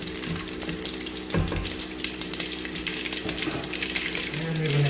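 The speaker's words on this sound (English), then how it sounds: "we're going to add in our 1 large sliced onion and leave it to fry till golden brown" One large sliced onion frying with whole spices in a pan for chicken curry, a dense, crackling sizzle that holds steady throughout, with a low background hum and a brief clatter near the middle.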